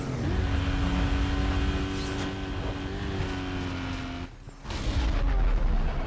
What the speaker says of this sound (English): And on the brakes, also downshifting in the process.